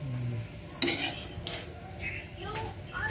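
Metal utensils scrape and clink against a pot as native pork kaldereta is stirred, with a few sharp clanks over a steady background hiss.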